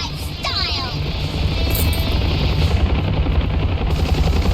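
A police aircraft flies in the Ravenfield video game. Its engine gives a loud, steady roar that fills the whole clip, with faint sharp bursts on top that could be gunfire.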